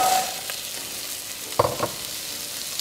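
Carrots hit hot oil flavored with bacon and beef for beef bourguignon, a steady close sizzle with a few clattering knocks of pieces and a utensil against the pot, and no speaking.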